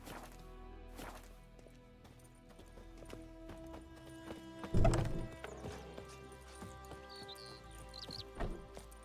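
Roach the horse in The Witcher 3, hooves clip-clopping in an uneven rhythm close by, with a louder thump midway over a soft game music bed.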